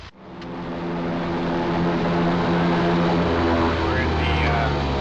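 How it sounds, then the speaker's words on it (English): A small passenger plane at Aklavik lines up on the runway for takeoff, its propeller engine droning loudly and steadily from inside the cabin and swelling slightly as it goes. "We're in the Aklavik airplane here, lining up for the runway to take off."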